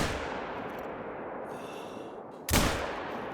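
A single sharp gunshot from an R. Cuomo .243 handgun in theHunter: Call of the Wild cracks loudly about two-thirds through, then fades over steady low ambient outdoor noise.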